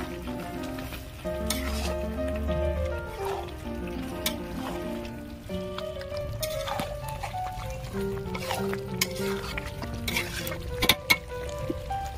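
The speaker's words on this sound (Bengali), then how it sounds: "এক বাটি খাসির চর্বি দিয়ে দেবো। ভালো করে নাড়াচাড়া করে নেব।" Goat fat frying and being stirred in a pan for a chicken curry, with steady sizzling and repeated scraping and stirring clatter, close and continuous throughout.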